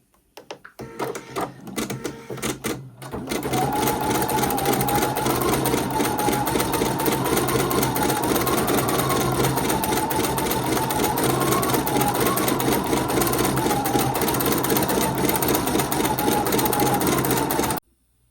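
An embroidery machine stitches a free-standing lace square doily with a fabric insert, a steady, loud, fast mechanical whirr with a rapid needle rhythm that runs without a break for about fifteen seconds after a short start-up, with no voices.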